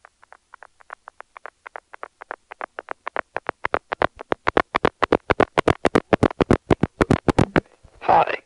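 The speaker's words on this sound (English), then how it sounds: "That's the sound of an ad infinitum bridge stack dropping." A 1983 Centrex telephone system drops a stacked ad infinitum bridge, giving a long run of sharp clicks that start sparse and faint, then speed up and grow louder before stopping in a short noisy burst.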